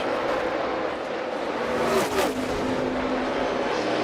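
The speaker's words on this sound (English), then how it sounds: "Kyle Busch with amazing pass down the back stretch" NASCAR Xfinity Series race car engine roaring down the back stretch as Kyle Busch makes a pass, a loud continuous drone with a brief pitch swell as a car goes by, heavy crowd and track noise around it.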